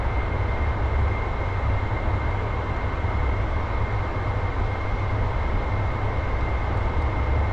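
A small aircraft's engine drones continuously and evenly in flight near 25,000 feet, loud and steady with no talk, heard from inside the cockpit.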